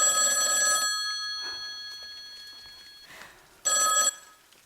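An old telephone bell rings on stage in a theatre play, two loud metallic ringing bursts separated by a pause with faint movement.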